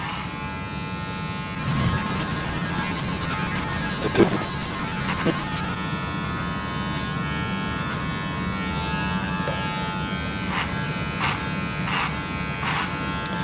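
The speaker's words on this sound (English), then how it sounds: "always working clipper over comb. I never run the clipper against the scalp unless I'm working on a nape." An electric hair clipper buzzes steadily while cutting short hair over a comb during a pixie cut, with a few brief snips and handling noises and faint talk at times.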